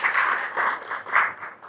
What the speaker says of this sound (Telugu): ఇద్దరు చప్పట్లు గట్టిగా.